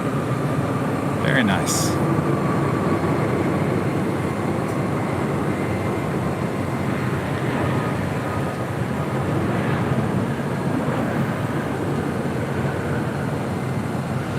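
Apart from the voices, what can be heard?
airliner landing at LAX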